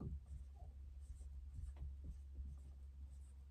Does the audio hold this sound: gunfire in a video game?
no